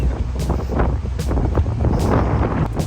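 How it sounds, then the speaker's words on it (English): Strong wind in Los Angeles buffets the microphone in loud, uneven low rumbling gusts, with no one speaking. "So windy."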